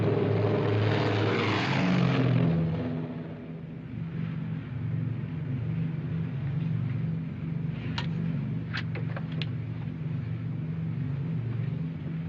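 Steady drone of a propeller airplane engine heard from inside the cabin, a constant low hum with a few faint ticks, no voices.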